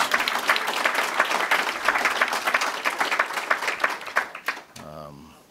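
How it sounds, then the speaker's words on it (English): Audience applause at a green-economy business event fills the room with dense, steady clapping for several seconds before fading, and a voice begins speaking near the end. "Give her another round of applause."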